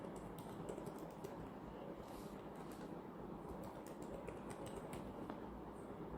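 Typing on a computer keyboard while entering an email address and password, a steady run of light clicks under a faint room hum, fairly close and quiet.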